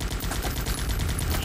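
Rapid automatic gunfire from a video game fills the moment, dense overlapping shots in a continuous loud burst with no talking.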